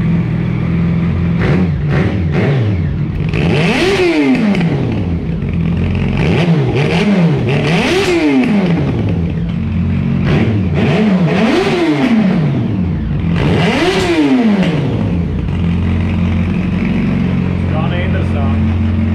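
A Yamaha FZ1 motorcycle engine, warmed up and run low on fuel, is blipped several times in a row, each rev rising sharply and falling back over a steady idle. Voices talk throughout.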